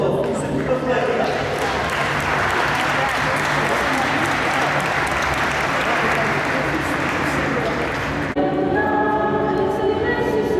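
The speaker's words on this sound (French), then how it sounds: "mais on les applaudit très fort." Church congregation applauds at a baptism, a broad sustained clapping under a low hum. It stops abruptly near the end as music or voice takes over.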